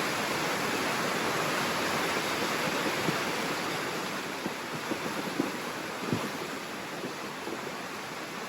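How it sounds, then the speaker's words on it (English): A raging flooded river in Portugal pushing rocks downstream, a loud, constant roar of rushing water with deep thuds and knocks of tumbling stones rising toward the end. "that is the sound of rocks being pushed down the river"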